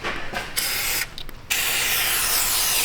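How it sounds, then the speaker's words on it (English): Aerosol spray hisses loudly and close onto a car's rusty brake backing plate in a workshop, several bursts with short breaks, ending in one long continuous spray. "We'll spritz down the backing plate."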